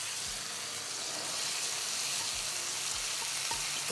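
Vegetables sizzle in a smoking-hot wok during a leftover stir fry, a steady loud hiss of frying with a few soft low knocks as the veg shifts, no voices.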